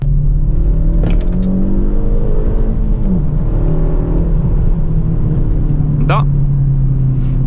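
A loud Kia Ceed GT engine in sport mode hums and revs steadily up close, with a person talking over it in the car interior.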